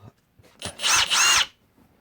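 A Ridgid cordless drill/driver runs loud and close in two quick back-to-back bursts of whirring motor noise, about a second in all, with no talking.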